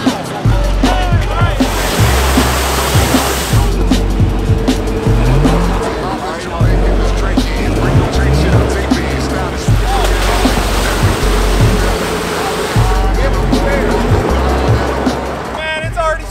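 A V8 Hummer off-roading over dips roars loudly and continuously as its wheels spin, with the engine surging in rhythmic bursts, while people in the cabin talk and exclaim over it.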